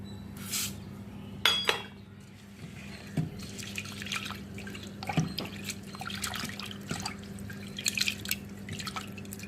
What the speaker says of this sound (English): Now wash this well in water.